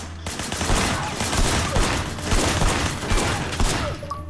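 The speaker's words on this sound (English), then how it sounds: "Shooting at the guys over there." Dense, sustained gunfire fills a Sleeping Dogs shootout: overlapping shots and bursts roll on continuously at loud volume, with no clear gaps and no speech.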